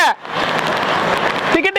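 Heavy downpour in Tiruvannamalai during an extreme rain event, a dense steady hiss of rainfall filling the scene throughout, with a voice briefly heard near the end.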